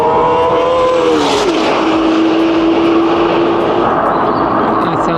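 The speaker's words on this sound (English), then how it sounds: "here comes the 488 Evo, pushing hard, getting off track." Ferrari 488 Evo race car pushing hard at Clark Speedway, its engine whining loud and then settling into a steady high drone as it speeds past. It sounds fairly close, with broadband wind and track roar.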